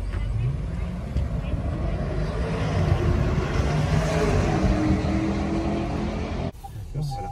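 A 2019 Range Rover Evoque climbs a 30-degree slope with a steady low engine drone and rumble, close and continuous, which fades out near the end.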